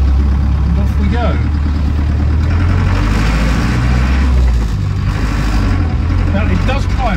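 A Land Rover Lightweight with a 200TDi diesel engine pulls away, its loud, steady low rumble continuing under a voice.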